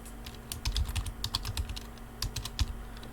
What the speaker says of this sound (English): And now we start typing in the lyrics.